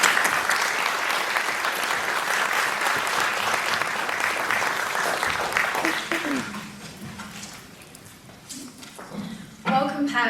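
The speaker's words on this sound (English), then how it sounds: "If you could give them a round of applause just to introduce them" Sustained clapping from an audience of parents and prospective students at a school talk for several seconds that fades out, followed by a person beginning to speak.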